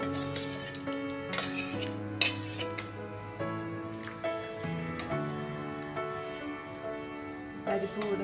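A utensil stirs cooked lentils into a pot of Kerala varutharacha sambar with okra, giving light clinks and a soft wet stirring under steady background music.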